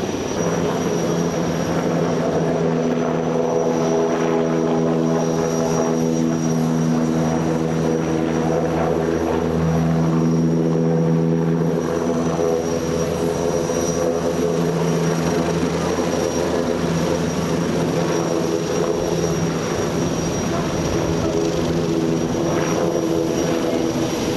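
An NH-90 Caïman navy helicopter flies during a demonstration at an air show, its rotor and turbine making a steady, loud drone that holds for the whole stretch with a faint rise and fall.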